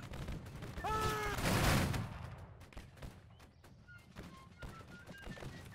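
A ragged musket volley in the Napoleonic-era game Battle Cry of Freedom, a dense burst of overlapping gunfire that swells for about a second and then trails into scattered shots and distant battlefield noise.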